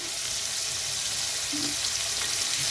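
Potatoes and ridge gourd fry and get stirred in a pan for a shrimp curry, giving a loud, constant close-up sizzle with faint scraping of the stirring throughout.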